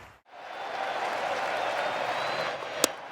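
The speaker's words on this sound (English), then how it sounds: "Crowd is loud." A loud, steady crowd roar fills a baseball stadium during an NLCS playoff game between the Dodgers and Brewers, sustained for several seconds with one sharp clap-like spike near the end.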